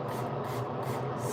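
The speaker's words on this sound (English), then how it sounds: "I'm gonna put in some spray detangler into my hair" Detangler spray misted into damp, freshly washed hair, a steady continuous hiss and rub lasting the whole moment, close and fairly even in level with no pauses.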